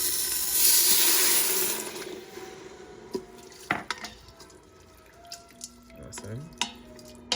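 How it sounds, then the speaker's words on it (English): Water poured into an Instant Pot for pulao: a steady rushing pour for about two seconds, then quieter clinks, taps and light stirring knocks of utensils against the pot. "Now I'm gonna add the water"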